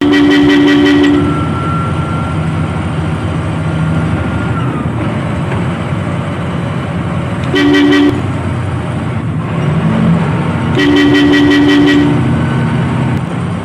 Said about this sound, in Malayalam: മുന്നിൽ പോകുന്ന വാഹനത്തിന് പിന്നിൽ ചെന്ന് ഹോണടിക്കുമ്പോൾ ഇനിയൊന്ന് സൂക്ഷിക്കണം